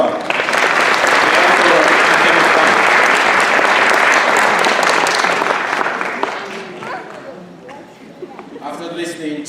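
Loud, dense applause from the crowd at a Black History Month storytelling event holds steady for about six seconds, then tapers off as a voice starts talking over the last scattered claps.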